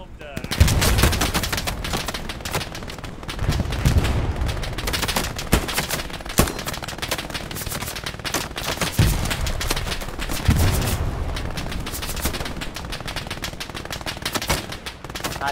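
Machine gun fire in the WW2 shooter Hell Let Loose, rapid loud bursts of automatic gunfire rattling continuously with heavy booms underneath, while players talk over the shooting.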